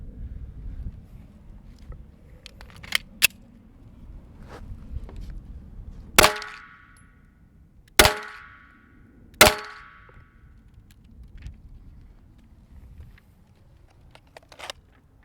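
Pistol shots from an S&W M&P 2.0 fitted with a prototype barrel: three sharp, loud reports spaced a couple of seconds apart, each with a short echoing tail, plus faint clinks before and after.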